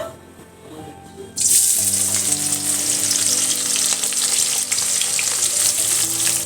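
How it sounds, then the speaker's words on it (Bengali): Oil crackles and sizzles loudly as sliced onions fry into birista for biryani over medium-low flame, a steady bubbling hiss that erupts suddenly after a quieter start and continues without talk. "এবার এই পেঁয়াজটা ভেজে নেব বা বেরেস্তা করে নেব"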